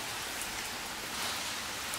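Water sprays steadily from a hose or watering can onto freshly transplanted greens in soil, a constant close hiss like rain on a surface that lasts the whole moment without talk.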